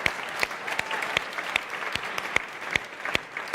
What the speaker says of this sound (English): Oh, more round of applause.